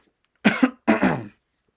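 Two short, light coughs in quick succession, close and clear, with silence around them.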